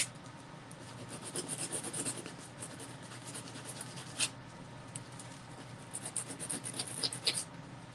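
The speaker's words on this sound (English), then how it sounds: "I wonder if I can just sand them off." Sandpaper rubbed over a painting to remove black lines, a soft, close, repeated scratching in short strokes that grows busier toward the end.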